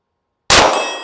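A single bright metallic clang as a pistol bullet strikes a small steel shooting target, loud and sudden after silence, then ringing away over a fraction of a second.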